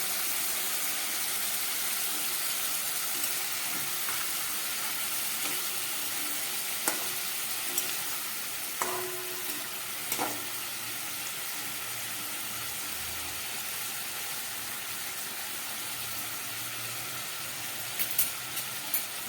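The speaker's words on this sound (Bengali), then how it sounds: "ঝোলটা ফুটে উঠেছে" Fish curry gravy with mustard paste and green chillies bubbling on a stove, a steady low simmering hiss with soft pops and a few clinks of a spoon or lid, heard alone without voices.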